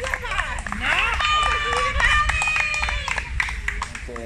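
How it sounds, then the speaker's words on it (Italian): Audience clapping and cheering at a dog and pet training event, a busy patter of hands mixed with excited voices and high whistling calls, lively and continuous throughout. "Ragazzi, un applauso più forte perché se lo meritano tutti."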